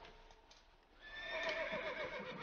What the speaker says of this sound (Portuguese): preciso de alguma coisa que eu não tenho para poder montar esses cavalos que não estão deixando eu montar